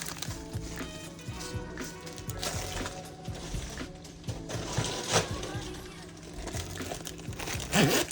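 Vegetables pouring out of a plastic bag in a home kitchen: irregular crinkling of the plastic with soft rattling and tumbling of the pieces, close by, with a few louder bursts.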